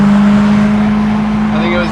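A V8-swapped BMW E30 fitted with a lightweight flywheel gives off a loud, steady, close-up engine drone with a strong low hum held throughout; no clear rise in revs stands out.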